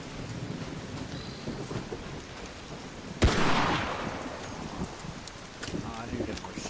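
A lightning strike in the video game Arc Raiders lands as a sudden sharp crack that rolls into a loud rumbling boom and fades, over steady rain and wind, with voices talking.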